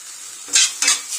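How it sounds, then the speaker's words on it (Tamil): Tomatoes with salt sauté in a pan, a soft steady sizzle broken by two sharp bursts of stirring and scraping, close and clear with no talk. "உப்பு போட்டு நல்லா வணக்குறோம்"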